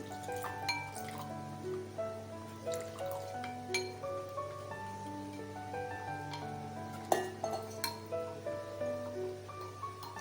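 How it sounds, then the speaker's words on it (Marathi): Curd paste stirred with water in a bowl, heard as faint, irregular wet clinks and soft liquid swishes over a low steady hum, with one sharper knock partway through. "व्यवस्थित मिक्स पेस्ट करायची आपल्याला"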